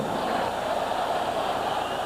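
Crowd noise from a packed basketball arena at a 1992 Knicks–Rockets game, a steady broad roar of fans reacting, loud and sustained without pause.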